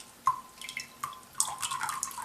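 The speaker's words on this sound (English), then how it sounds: "again, I'm just letting the water drain right out." Water dripping and draining from a potted Phalaenopsis orchid after watering: a handful of distinct, close drips with small splashes, irregularly spaced, alone without talk.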